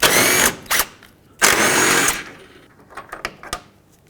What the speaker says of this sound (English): there are two 13mm bolts right here. Let's remove those.